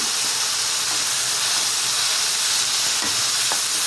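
Methi tomato chicken cooking on low heat gives a loud, continuous hiss and sizzle, with a couple of soft stirring scrapes partway through.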